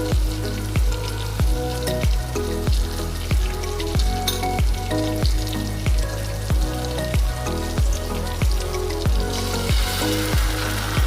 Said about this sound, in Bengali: পেঁয়াজটা ভাজা ভাজা হয়ে গেছে। এবার আমরা চিনি অ্যাড করছি।